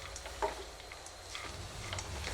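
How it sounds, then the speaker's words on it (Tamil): Mint leaves sautéing in a pan alongside coriander and curry leaves give off a faint, steady sizzle that stays low and even throughout, with no voices. "புதினா நல்லா வதங்கிட்டுருக்கு"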